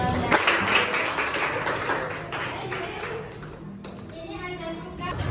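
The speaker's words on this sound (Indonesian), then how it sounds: "Tepuk tangan untuk kita semua." A classroom of children applauds at a lesson on solid waste, a dense patter of many small hands that is loudest at the start and then fades, with children's voices chattering underneath.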